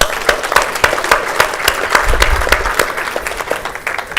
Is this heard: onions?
no